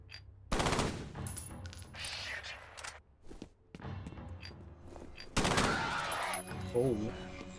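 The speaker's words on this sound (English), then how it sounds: "ASP rifle." ASP rifle gunfire in the video game F.E.A.R., heard as two loud bursts of rapid automatic fire separated by quieter game sounds and clatter, with a voice speaking in between.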